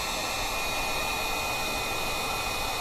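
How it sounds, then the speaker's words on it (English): Wagner pistol-grip heat gun shrinking heat shrink tubing on battery cables, a loud, steady blowing roar of hot air, close and constant with no variation. "make use of a heat gun. So I use a Wagner heat gun, sort of the pistol grip style"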